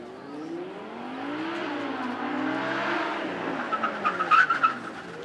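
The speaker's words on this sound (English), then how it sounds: "Let's hear the V10 sing at the back of our Audi R8." An Audi R8 with a V10 engine passes on a track at a supercar weekend, its engine note rising and falling as it comes near, then tyres squeal in short bursts as it brakes hard toward a stop.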